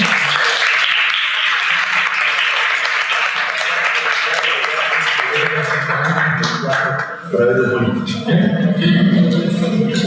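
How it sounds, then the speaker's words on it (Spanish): Applause from a lecture audience at a keynote talk rolls on steadily, thinning toward the end as a voice begins speaking over the last claps. "yo les pido un aplauso para Vasilina"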